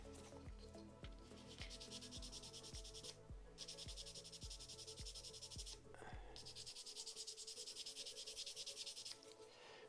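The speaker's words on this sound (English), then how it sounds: "So I'm going to take a fairly coarse sanding stick here and start going for it." Steady, scratchy rasping of a coarse sanding stick on a 1/35 plastic scale model tank in long strokes with two short pauses, over rhythmic background music.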